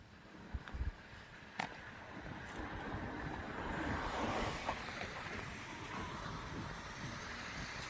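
Blustery wind in Japan roars and buffets steadily after a few faint knocks at the start, a broad rushing noise with gusts swelling and easing.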